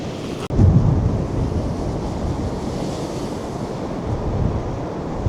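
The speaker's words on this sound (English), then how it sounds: "Here comes that big gust of wind again." A big gust of wind roars over stormy Lake Erie with surf churning below, a loud sustained rush that bursts in after a short pause and holds steady.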